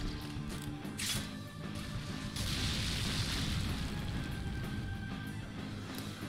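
Grenades go off in Resonance of Fate as rumbling booms with sharp crashing bursts and metallic mechanical clatter, a dense, moderately loud run of blasts with no talking.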